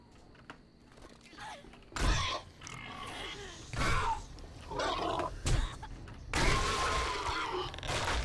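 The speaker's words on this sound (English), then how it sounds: "Alright, I got one of the pigs outside." Pig grunts in the survival video game 7 Days to Die, several loud, rough grunts and thuds coming in bursts over a steady low game background.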